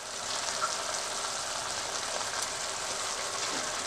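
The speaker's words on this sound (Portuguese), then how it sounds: "Cozinhe os camarões por cerca de 3 minutos" Shrimp cooking in a pan with tomato paste, giving a steady, close, even sizzle with no talking.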